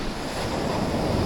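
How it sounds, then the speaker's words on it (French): Ocean surf at a beach on Con Dao island, Vietnam, heard as a steady, close, broadband rush of breaking waves and churning water, with wind buffeting the microphone throughout and no voices. "Les amis, je suis dans l'eau, il y a des vagues."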